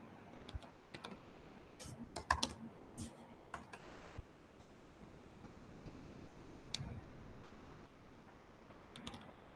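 Typing on a computer keyboard, a scatter of soft, irregular key clicks with a few louder taps, close and fairly quiet over low background noise, with no talking.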